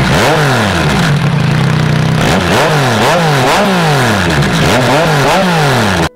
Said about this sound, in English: Let's get a sound check for the MT-09.